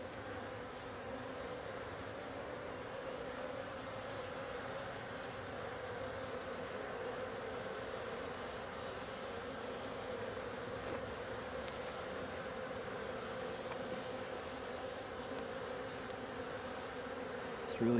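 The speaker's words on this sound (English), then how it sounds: "Where did all these bees come from?" Steady, dense buzzing of many honeybees around a hive continues throughout, an even drone with no talking.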